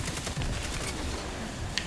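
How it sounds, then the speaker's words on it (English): Rapid hand cannon gunfire in the video game Destiny 2, a dense burst of shots with loud game combat noise throughout, heard alone without talk. "I got my hand cannon out. I'm ready to blast bullies."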